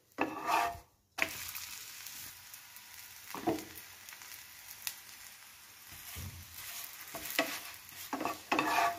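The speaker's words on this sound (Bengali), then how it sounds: "এবার এক এক করে ভেজে নেব" A paratha with fenugreek leaves fries in oil in a pan, giving a steady close sizzle broken by scraping and pressing strokes from a spatula as it is pushed down.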